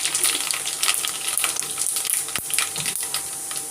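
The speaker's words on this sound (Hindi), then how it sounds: "अब इसको क्रैकल होने देंगे।" Cumin seeds crackle and sizzle in hot oil, a dense, loud, continuous frying hiss with quick sharp pops scattered throughout.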